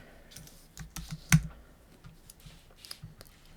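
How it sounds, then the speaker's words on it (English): Typing on a computer keyboard while entering text with the type tool in Photoshop Elements 2020: scattered, fairly quiet key clicks in an irregular rhythm, with one sharper, louder keystroke standing out partway through. "Click up here and start to type."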